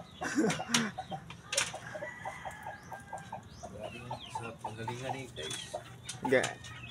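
Chickens cluck close by in quick repeated bursts while a rooster crows a few times, with faint rustling and background noise behind the calls.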